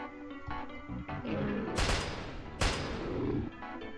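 Two loud, sharp gunshots ring out in a first-person shooter video game, separated by under a second, each a broadband burst with a short decaying tail over steady game background sound.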